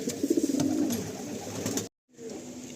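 Tournament-quality racing pigeons coo in a loft, a run of soft rhythmic coos in the first second, then a steady murmur of birds and a short cut of silence before the cooing hum resumes nearby.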